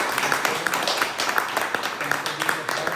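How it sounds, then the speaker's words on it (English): Audience applause for Patricia at a spring session talk, a dense wash of clapping with crisp individual claps, continuing throughout alongside a voice. "let's give Patricia a big round of applause."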